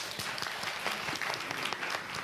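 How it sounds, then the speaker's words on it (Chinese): A church congregation claps during a Sunday sermon, with steady, moderately loud applause of many scattered hand claps and no voices on top. "俾啲掌声主啊"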